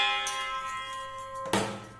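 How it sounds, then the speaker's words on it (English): A spoon strikes a large plate twice, each time ringing like a bell and fading gradually. The second ring comes about 1.3 seconds after the first, with no talk. "But if you take a large plate and strike it with a spoon"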